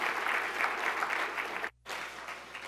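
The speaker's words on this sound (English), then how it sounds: "have a round of applause for the lunch." Symposium audience breaks into steady applause, a dense wash of clapping that briefly drops out mid-way before resuming at a lower, thinning level, with no voices heard.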